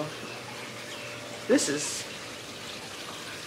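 A waterfall on the grounds of a large house gives a steady, even rushing hiss heard from a distance, while a voice briefly speaks over it.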